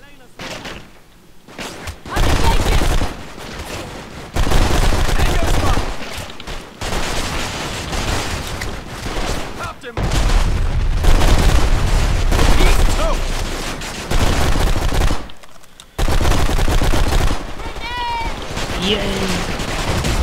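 Gunfire in the video game Blacksite: Area 51: loud, close bursts of rapid shooting and heavy thuds come in repeated volleys separated by short quiet gaps, with voices mixed in.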